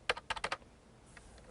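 Quick bursts of clicking keys on a computer keyboard, a short cluster of four or five close taps, a pause, then one more keystroke.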